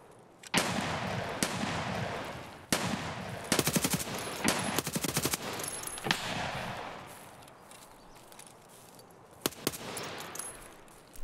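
Gunfire in Escape from Tarkov, from a shotgun or SKS rifle: several loud, sharp shots in irregular bursts, including a rapid cluster of cracks, ringing out amid a noisy background with no speech.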